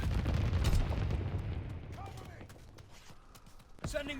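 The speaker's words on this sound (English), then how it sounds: "But then let's do mortar strike." Mortar strike explosions in Call of Duty: WWII: a heavy booming blast rolls out and fades, then sharper impacts and crackles follow, with a voice talking over them.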